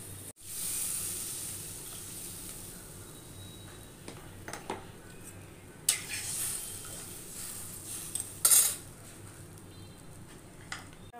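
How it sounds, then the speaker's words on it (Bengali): Water poured into spice paste frying in oil in a pan, a soft steady sizzle and hiss right after the pour with a few faint clinks and stirring sounds, no talking. "জল ঢেলে দেব।"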